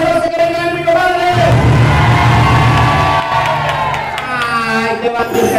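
A live crowd at a comedy contest show cheers, whoops and applauds loudly for a woman contestant, with shouting voices and a host talking through the noisy, sustained ovation.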